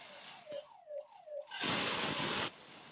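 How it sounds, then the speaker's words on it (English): An alarm seen on a doorbell camera sounds as faint, repeating falling electronic tones that give way to a loud harsh rushing burst lasting about a second, with no talking. "You can hear the alarm going off."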